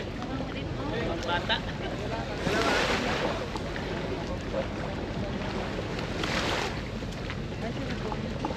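Tour boat at El Nido, Philippines, heard as a constant low engine drone mixed with wind buffeting and lapping water, with two louder gusts sweeping through, outdoors at the shore.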